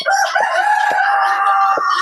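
Chickens in a poultry shed on a Bangladeshi farm, a dense chorus of clucking and crowing hens and roosters that continues loud and close throughout with no talk.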